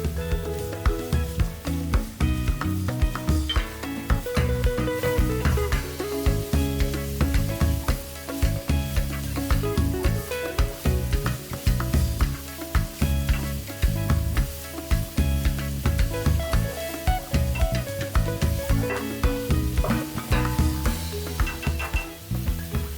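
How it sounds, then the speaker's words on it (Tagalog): Chicken and sliced vegetables stir-fried for Korean spicy seafood noodle soup (jjampong), with steady loud sizzling and frequent scraping and clattering stirring in the pan, no talking. "Followed by the sliced vegetables, and stir fry until the chicken turns white."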